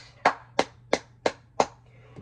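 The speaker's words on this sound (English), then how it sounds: "Let's give a big round of applause today for his first time receiving the polyammo pot, the BirdMan" Five slow, evenly spaced hand claps ring out close and alone in a quiet room, marking applause for the BirdMan, followed by a faint sixth tap.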